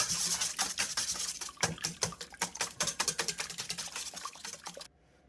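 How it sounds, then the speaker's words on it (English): A whisk clatters rapidly against a bowl as dry ingredients for a keto lemon poppy seed loaf are beaten, a fast even rhythm of close, light ticking strokes that stops abruptly near the end. "Whisk those."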